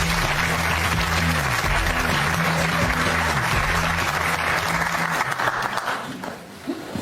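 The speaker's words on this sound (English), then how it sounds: "Give him a round of applause." Daytime talk show studio audience giving a round of applause, loud continuous clapping over a low musical tone, holding steady for several seconds before tapering off near the end.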